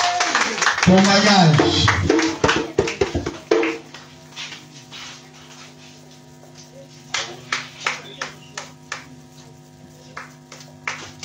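A church congregation claps hands during a French-language worship service, with loud singing and shouting over the clapping at first, then a run of distinct, close claps that settles into a steady rhythm under quieter voices.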